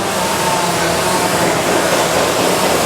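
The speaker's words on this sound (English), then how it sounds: "Right now we're vacuuming the AC." A vacuum pump evacuating the air conditioning system of a custom donk car, giving a steady, loud, unbroken mechanical hiss and whir with no change in pitch or level.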